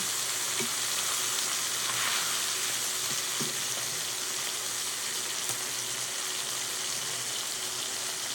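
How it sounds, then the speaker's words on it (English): The fatty edge of a steak sizzles in a frying pan in a steady, even hiss held close by, broken by a few small taps and clinks. "Let's see if I can get this side cooked a little more."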